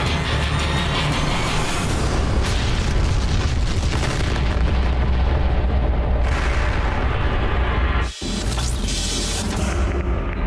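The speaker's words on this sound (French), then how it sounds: "une terrible explosion s'est produite" A powerful rocket explosion at a launch site roars as a continuous loud, dense rumble with crackling bursts, cutting out abruptly for a moment before the blast noise surges back.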